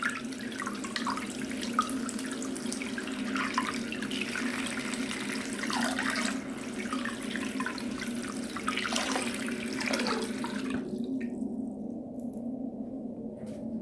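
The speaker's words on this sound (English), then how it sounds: "Let's try giving it a wash under a tap." A waterproof Microwear H1/H2 Android smartwatch rinsed under a running tap, with a steady close rush of water splashing over it for about eleven seconds before the flow stops abruptly and leaves near silence.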